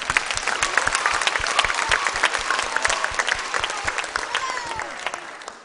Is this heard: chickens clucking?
no